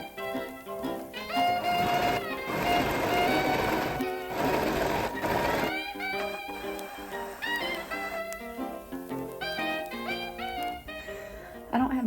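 A home sewing machine stitches fabric for a jumpsuit in a steady, rapid mechanical whir that runs for several seconds, slows, then resumes, partly blended with background music.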